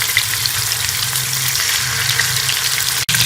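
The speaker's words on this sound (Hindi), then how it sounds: "इसी तरह से हम सारे कोफ्ते जो है वो रख के मीडियम आंच पे फ्राई कर लेंगे" Chicken achari koftas frying in oil over a medium flame, giving a steady, close, dense sizzle and crackle that runs throughout with a brief dropout near the end.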